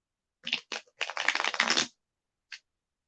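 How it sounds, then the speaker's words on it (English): Tarot cards riffle-shuffled in two short bursts, then a longer continuous riffle, followed by a single brief flick; close and clear with no talking. "All right, I'm shuffling 3 times."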